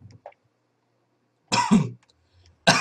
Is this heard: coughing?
yes